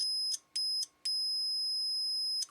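Multimeter continuity beeper sounding as the probes touch together: a clean, high electronic tone cutting in and out in short bursts, then holding steadily before stopping, alone and fairly near.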